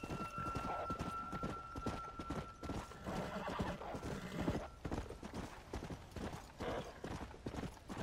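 Horse hooves clip-clop in a steady rhythm in the Red Dead Undead Nightmare video game, with a horse whinnying partway through, all under a busy game soundscape.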